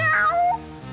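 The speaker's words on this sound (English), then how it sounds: "I'm that hungry little kitty cat you just read about." A cartoon cat meows once, a clear rising-then-falling call with a slight drawn-out tail, close and alone.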